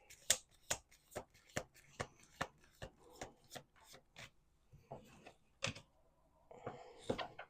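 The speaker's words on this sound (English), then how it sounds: "We're going to do 2 more shuffles after this one" Sharp, quick card snaps in a steady rhythm as a deck is shuffled close up, slowing into softer rustles toward the end; no voices.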